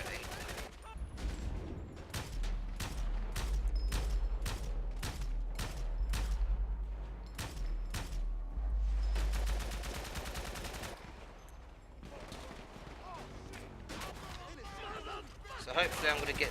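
Gunfire in GTA V during a gang turf war, rapid bursts of automatic shots and scattered single cracks, loud and close, with someone talking over part of it.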